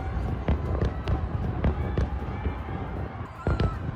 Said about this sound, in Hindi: ईरान की राजधानी तेहरान में कई जगहों पर आतिशबाजी हुई है